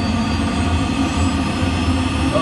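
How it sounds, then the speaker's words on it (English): Number two aircraft jet engine starting up, a loud steady roar with a heavy low rumble and a thin high whine layered over it, holding level and continuous throughout. "So that's starting the number two engine."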